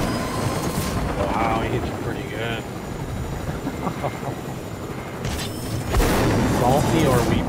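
A helicopter in the video game Fortnite whirs and thumps in a steady rotor drone, with bursts of gunfire and game effects layered over it and players talking throughout.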